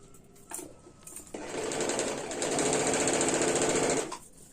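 An electric sewing machine stitching a kurti suit starts with a short burst, then runs in a sustained, rapid whirring rattle that rises and holds for a few seconds before stopping.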